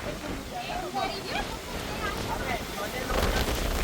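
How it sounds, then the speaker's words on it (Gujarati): Strong wind during a cyclone in Houston buffets the microphone in a constant roar while people talk over it. "તો જો ઉડાડી દે એવી હવા છે"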